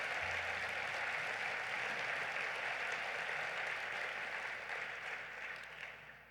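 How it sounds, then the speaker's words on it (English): A convention crowd at Netroots Nation 2018 applauds young people from Parkland, Florida in Jackson, Mississippi, a full, even roar of clapping that holds steady and then tapers off toward the end. "Please give them a round of applause."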